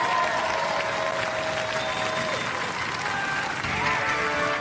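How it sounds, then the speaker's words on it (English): Robot Wars arena crowd applauds the King Buxton roboteers, a loud, dense wash of clapping and cheering that fills nearly five seconds, with a voice and some tonal arena noise mixed underneath. "Ladies and gentlemen, give them a round of applause."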